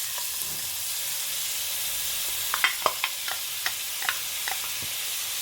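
Onions, peppers and minced garlic saute in a hot pan, a continuous close hiss of sizzling broken by scattered sharp pops and spoon taps in the second half, with no talking.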